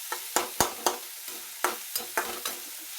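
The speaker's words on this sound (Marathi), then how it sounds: "आणि त्याला चांगली फ्राय होऊ द्यायची बघा." Soaked urad dal fries in oil in a pan while a spoon stirs it, giving sharp scraping clicks at an irregular pace over a soft sizzle.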